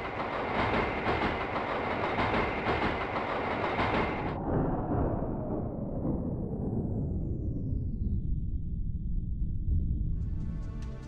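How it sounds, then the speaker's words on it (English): A train pulls in during the video game The Silver Case, a loud rushing rumble with rattling that slowly drops in pitch as it decelerates to a stop, ending with a brief high tone. "A train arrives, and as you enter it and look out the window"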